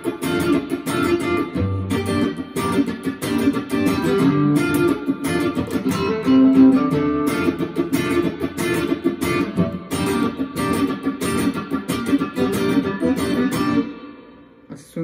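A Fender Telecaster fitted with a Bigsby tremolo is strummed through a clean tone on its neck pickup, a full, steady chordal passage throughout, close and unaccompanied by talk.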